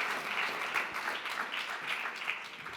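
A welcoming burst of steady crowd applause greets an executive taking the stage at a climate leadership talk, a dense even wash of many clapping hands at moderate distance with no voices.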